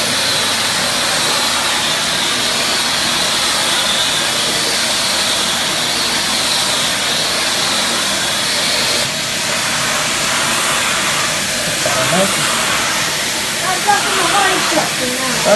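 A 1974 Electrolux 302 cylinder vacuum cleaner runs with a steady, loud, continuous whirring hiss, close by, while a person talks over it.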